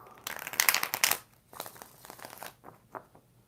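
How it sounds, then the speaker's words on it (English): A tarot deck being shuffled by hand, with two close, crisp riffling bursts followed by lighter card slides and taps that fade toward the end. "4 shuffles for Mina"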